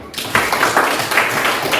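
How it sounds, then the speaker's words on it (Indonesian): A class of pupils claps together in a classroom for a classmate who answered well, producing loud, close, rhythmic claps at roughly two per second. "tepuk tangan untuk Olivia"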